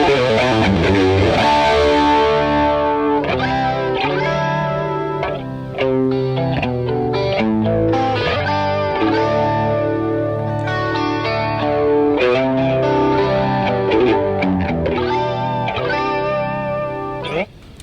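Electric guitar through the AmpliTube 5 Brian May amp preset, with a thick, distorted, chorus-tinged tone playing a busy melodic passage, loud and continuous throughout.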